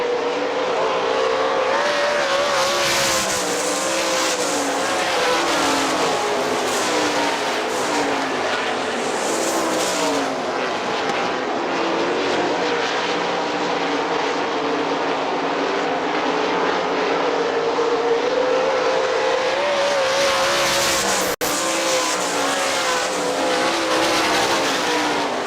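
Outlaw sprint cars race around Hartford Speedway Park in a continuous loud engine roar, with revs rising and falling as cars pass, plus a sharp crack near the end.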